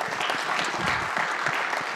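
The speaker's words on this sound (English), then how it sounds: "Let's give her a round of applause as well." An audience at a university political conference applauds a panel moderator, dense continuous clapping from many people, fairly loud and even with no break.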